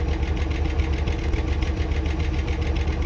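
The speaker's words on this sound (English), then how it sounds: "if you get in the seat, let me switch back to this mode, and then you press E, that will start the engine on the bike" A motorbike engine idles in the video game Tower Unite, a steady, even low rumble with a faint rhythmic pulse that carries on unbroken, with no voices.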